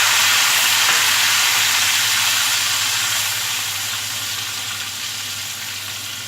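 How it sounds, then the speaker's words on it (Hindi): Spices hitting a hot pan with a little water for a potato and chickpea curry, giving a loud, steady sizzle and steam hiss that slowly settles and quiets. "थोड़ा सा पानी डालने के बाद इसमें सारे मसाले डाल देंगे।"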